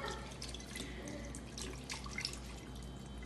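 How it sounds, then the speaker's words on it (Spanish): Cabrito reposado tequila is poured into a drink being mixed with orange juice, a faint liquid trickle under a steady background hum. "Le estamos echando el tequila"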